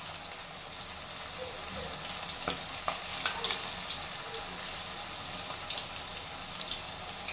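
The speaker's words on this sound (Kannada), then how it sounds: "ಇವಾಗ ಒಂದೊಂದಾಗಿ ಕ್ಲೀನಾಗಿ ಎಣ್ಣೆಲೆಲ್ಲ ಚೆನ್ನಾಗಿ ಫ್ರೈ ಆಗ್ತಾ ಇದೆ" Chicken 65 pieces fry in hot oil with a continuous bright sizzle and crackle, punctuated by occasional sharp pops and faint clinks of a utensil.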